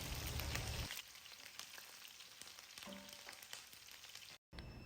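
Chopped onions fry in palm oil with a quiet, steady sizzle and light occasional stirring, heard alone with a brief drop near the end.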